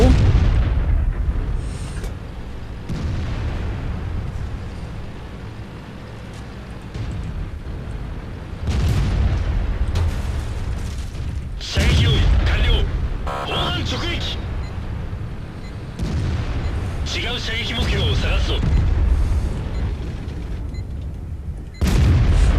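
Heavy booming cannon shots from the STA-2 tank in a tank video game, several loud blasts spread through the clip amid rumbling engine noise and someone talking.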